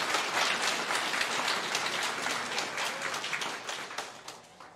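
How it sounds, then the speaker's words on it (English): Audience applause for graduates at the Bay Mills Community College 2022 graduation ceremony, a dense, steady wash of many hands clapping that stays loud throughout and tapers slightly toward the end. "Let's give another loud round of applause for our graduates"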